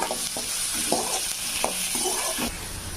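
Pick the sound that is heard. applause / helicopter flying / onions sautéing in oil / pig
onions sautéing in oil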